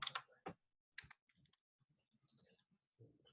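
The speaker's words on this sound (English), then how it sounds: "is my keyboard typing annoying?" Sharp, close keyboard clicks come in short irregular bursts, with quiet gaps between the keystrokes.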